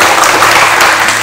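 An audience bursts into steady, dense applause at an Indonesian talk-show gathering, a close wash of many hands clapping together without pause for the whole moment.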